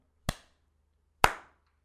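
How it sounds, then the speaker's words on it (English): Two sharp hand claps about a second apart, close and crisp, the second slightly louder, with silence around them. "We'll do the clap."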